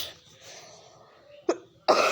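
Two short, sharp coughs close by from a person with a cold and fever, a moment apart, after quiet breathing sounds.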